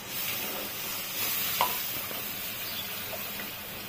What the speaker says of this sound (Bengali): জল দিয়েছিলাম, টকবকিয়ে ফুটছে, আর একটু ফুটবে।